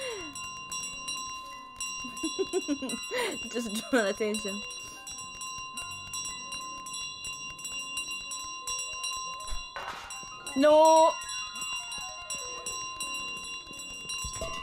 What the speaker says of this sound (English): Oh, no, get my bell.